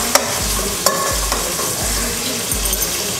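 Chopped onions sizzle steadily in a hot pan while a spoon scrapes and stirs them in regular strokes, close and loud, with no talking.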